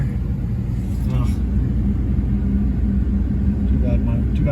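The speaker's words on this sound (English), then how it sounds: "Too bad I gotta do all this while I'm driving." A car driving along a road near Revelstoke dam, with a steady low engine rumble and road noise heard from inside the cabin, and someone speaking briefly over it.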